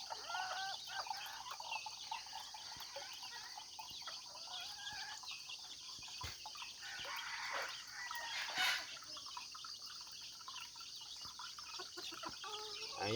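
Chicks and chickens cluck and peep continuously at a farm's morning feeding, a faint but busy chorus of overlapping calls with occasional louder squawks.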